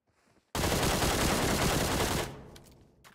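A single burst of automatic gunfire in PUBG Mobile or Free Fire, a loud, dense rattle lasting under two seconds, then tapering into quieter echoes.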